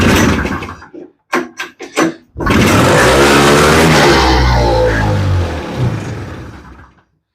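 A 1979 Honda Odyssey FL350 engine, throttle tied at half, coughs and stutters in a few short bursts, then catches and runs loud and steady, close up, before cutting out.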